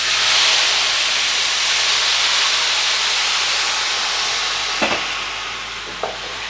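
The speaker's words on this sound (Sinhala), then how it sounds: "ඊට පස්සේ මම වතුර ටික එකතු කරගන්නවා." Water poured into a hot pan of Sri Lankan pumpkin curry sets off a loud, broad hiss and steam rush that slowly fades, followed by a couple of brief stirring scrapes near the end.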